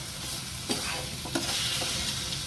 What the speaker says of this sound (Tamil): we can add 2 எக்கை வந்து இதில் ஆட் பண்ணுறோம். ஆட் பண்ணிவிட்டு அதை நல்லா இதோட மிக்ஸ் பண்ணுறோம்.